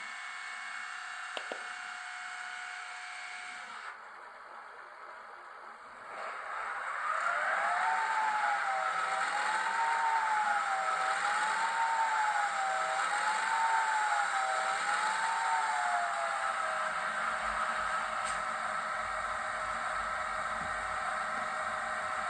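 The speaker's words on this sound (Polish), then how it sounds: "F1, włączenie silnika. No to włączamy. Zobaczymy jak gada." Diesel engine of an M62 Gagarin locomotive starting up in a train simulator game, a brief click and quieter lull before the engine catches and settles into a loud, steady rumble with a slowly wavering whine.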